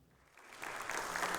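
Applause from a political party gathering rises as presidential candidate Lee Jae-myung walks into a Democratic Party lawmakers' meeting, with clapping building from sparse to a dense, steady wash over a moment.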